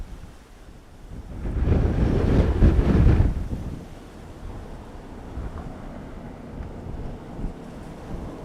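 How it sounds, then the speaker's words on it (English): A big gust of wind sweeps across an open airfield during a storm, a loud broadband roar swelling for a couple of seconds before easing back to a steady, lower rush of windy background noise. "That big gust you heard caught them there"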